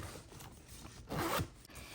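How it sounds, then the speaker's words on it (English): A zipper on the pouch of a leather tote bag is pulled in one short, close, raspy stroke, with quiet room background around it. "So here you have the zipper pouch,"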